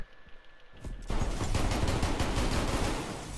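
After a brief quiet start, a rapid stream of close, loud automatic gunshots in a first-person shooter video game breaks out and keeps rattling steadily without pause, with no talking heard.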